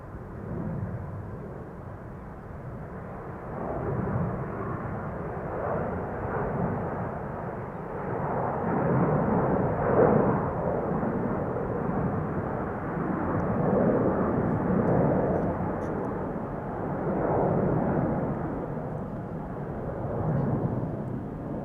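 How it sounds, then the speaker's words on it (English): A Cathay Pacific Airbus A350-1000 departing Amsterdam Schiphol for Hong Kong gives a sustained, deep jet roar that swells and ebbs, heard from close by at the runway with no talk. "Cathay Pacific, A350 1000 to Hong Kong"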